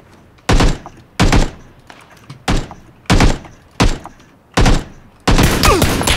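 Gunshots in PUBG Battlegrounds, played as a duo with an 8x scope: seven loud, close shots fired at a regular pace with short quiet gaps between them.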